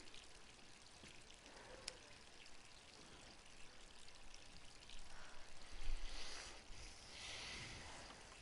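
Water running steadily from a tap left on in a Resident Evil 3 Remake scene, a continuous splashing pour with a faint ambient rumble underneath, swelling slightly louder toward the end.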